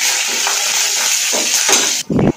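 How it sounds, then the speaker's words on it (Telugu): Mustard seeds, cumin, chana dal and urad dal sizzling in hot oil for okra pulusu, a loud steady crackling hiss with a few popping bursts, then a short clatter of a pan at the end. "నూనె వేడయ్యాక 1/2 స్పూను ఆవాలు, 1/2 స్పూను జీలకర్ర, 1 స్పూను పచ్చిశనగపప్పు, 1 స్పూను మినపప్పు ఇవన్నీ వేసి వేగాక"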